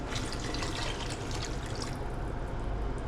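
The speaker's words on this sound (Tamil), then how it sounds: "இப்போ வந்து தண்ணி அளந்து ஊற்றிக்கிட்டு இருக்கேன்." Water being measured out and poured into a cooking pot for prawn biryani, a steady close splashing pour running throughout, easing slightly toward the end.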